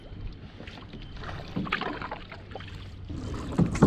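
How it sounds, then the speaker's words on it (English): A canoe is paddled through a narrow channel between two lakes, with soft water swishes and dribbles under a steady outdoor wind hiss, plus a couple of louder splashes near the end. "Skipping the portage between Mud Channel Lake and Boulder Lake by paddling through this narrow channel."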